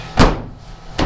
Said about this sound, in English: trunk shuts now